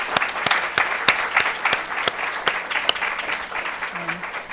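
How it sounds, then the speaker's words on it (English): Steady applause from an audience, with sharp individual claps standing out over a dense wash of clapping. "And one more round of applause."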